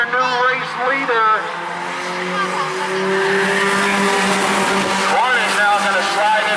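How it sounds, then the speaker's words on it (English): Race cars on a dirt-track outlaw heat roar past at close range, engines droning and rising in pitch with tire squeal, under continuous excited commentary. "Nice pass there by the 67 of Cody Byrne, your new race leader."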